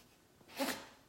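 A single sneeze, short and fairly close, bursting out after a quiet moment.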